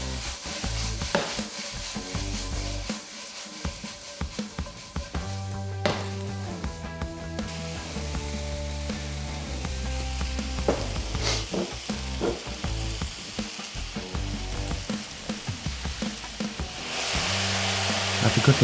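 Turmeric and paprika frying with peppers in a pan for a pepper chutney, an ongoing close sizzle broken by repeated stirring scrapes and clatters of the spoon, the sizzle swelling louder at the end.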